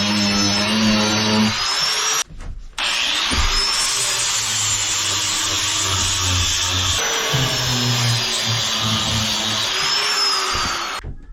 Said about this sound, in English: So I say we get this sanded down a bit.